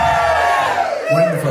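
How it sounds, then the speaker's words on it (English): Wedding guests at a reception cheer and whoop together ahead of the first dance, a loud sustained crowd yell with overlapping voices up close. "Give me a cheer after 3 if you're excited for the first dance."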